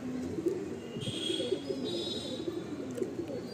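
Pigeons kept in a home loft coo in low repeated rolling calls, fairly close, with a few faint chirps and soft rustling behind them and no voices.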